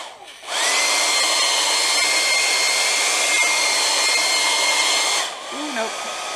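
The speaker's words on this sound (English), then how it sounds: "the blow dryer on high is actually moving that gold pigment around" A blow dryer set on high blasts steadily and close while drying gold pigment on artwork, switching on abruptly and roaring evenly for about five seconds before cutting off.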